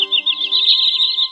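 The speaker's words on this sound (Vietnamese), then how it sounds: "Anh em cần bản gốc của tiếng chim này mà không bị chèn nhạc vào" Common greenshank call recording: a continuous run of bright, rapid chirping notes, loud and close, with no talk over it.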